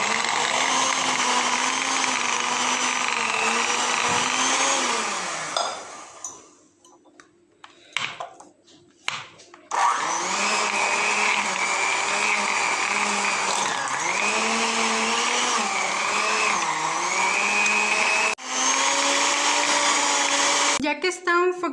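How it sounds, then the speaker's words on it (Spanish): An electric hand mixer beats cheeses for a cheesecake inside a baking pan, giving a loud steady whirring drone that drops away briefly midway, then resumes and runs continuously to the end. "Voy a usar mi batidora de mano."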